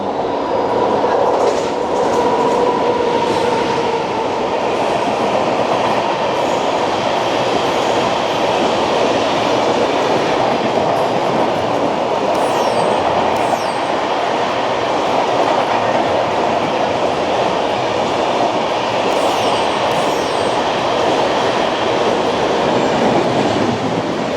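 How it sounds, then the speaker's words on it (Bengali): The Mumbai–Howrah CSMT Duronto Express thunders through a station without stopping, a loud, sustained roar of passing coaches with rhythmic wheel clatter and faint squeals, heard close for the whole stretch. "মুম্বাই হাওড়া সিএসএমটি দুরন্ত এক্সপ্রেস। তাকে এখানে থ্রু পাস করিয়ে দেওয়া হবে"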